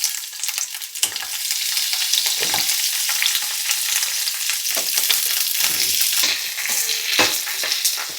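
Cut capsicum frying in about two tablespoons of oil in a pan gives a loud, continuous sizzle close by, broken by occasional stirring scrapes.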